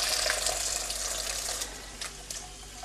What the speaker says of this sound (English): I'm going to turn the water on to cold.